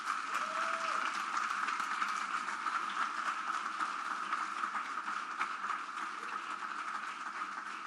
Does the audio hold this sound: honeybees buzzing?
no